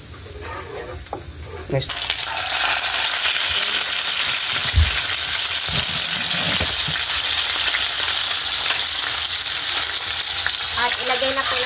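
Tilapia drops into a hot pan and loud, continuous sizzling frying follows, heard close up, with a brief spoken word and some clatter from cookware near the start.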